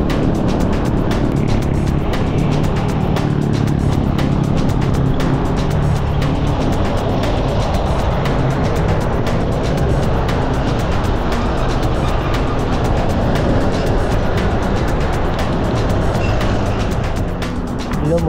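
Steady, loud road traffic roars continuously as heavy trucks and other vehicles rumble past on a busy descending highway near Carmona, with engine drone filling the whole stretch and no clear breaks.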